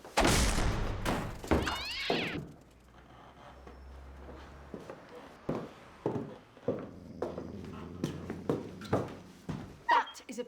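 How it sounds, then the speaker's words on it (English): A cat gives a short rising-and-falling meow near the start, followed by a string of soft thumps and knocks, with voices talking quietly in the scene. "She's a cat, Eddie, a different species altogether"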